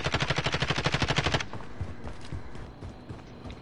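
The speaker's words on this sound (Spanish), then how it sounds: "Me están disparando." Rapid automatic gunfire from a Call of Duty match, a steady burst of close, loud shots lasting over a second, then scattered quieter shots and game noise.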